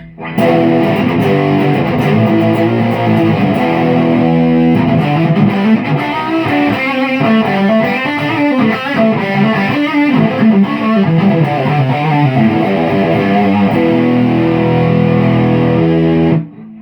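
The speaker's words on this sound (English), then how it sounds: "If you want a little bit more distortion" An Aria U-100 Urchin electric guitar with boost and overboost on plays loud, heavily distorted sustained riffs and chords for the full length, thick and saturated, with no voices.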